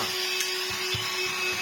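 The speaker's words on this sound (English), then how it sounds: "And have a working vacuum cleaner." A Black & Decker DustBuster Flexi vacuum cleaner, repaired and run on a substitute battery, gives a steady motor whine with a constant tone and a few low thumps underneath.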